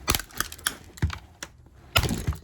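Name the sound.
HDPE plastic piece being ripped off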